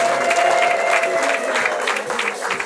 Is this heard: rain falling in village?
no